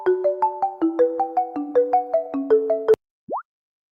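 A phone ringtone for an incoming call plays a rapid, bouncy sequence of plopping electronic notes, then stops abruptly. A short rising boing-like tone follows alone after a brief gap.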